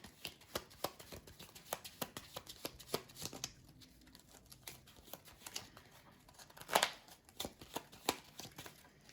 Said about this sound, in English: We draw 2 and then shuffle our deck in bad ways.